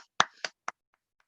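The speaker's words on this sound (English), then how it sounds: "So can we have a round of applause for Bruce," A few isolated hand claps at a recovery talent concert, three sharp, fairly close claps in quick succession before fading to faint scattered taps, rather than a full round.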